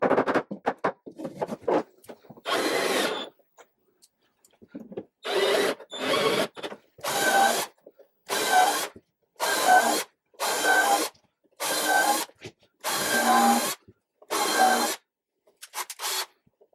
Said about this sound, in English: drilled a pilot hole, and then finished the hole with a flat bit.